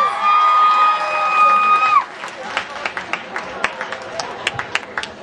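A sustained tone fades out, then scattered claps and a few cheers from a live music audience at Stazione Birra in Rome follow, growing sparse and uneven while voices murmur.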